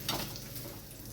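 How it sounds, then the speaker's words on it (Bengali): Steady crackling sizzle of fish frying in hot oil, a continuous bright hiss with a brief clatter near the start. "বাকি একটা মাছ ছিল সেটাও ভাজা হয়ে গেছে সেটাও আমি তুলে নিচ্ছি"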